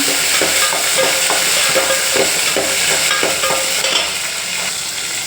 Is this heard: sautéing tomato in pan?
yes